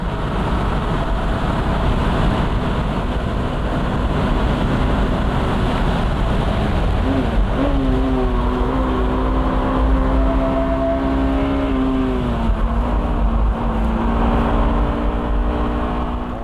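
Honda S2000 engine held at full throttle downhill on the Nürburgring, a loud, steady in-car drone with a rising then falling engine pitch mid-way, constant road and wind roar underneath, no voices.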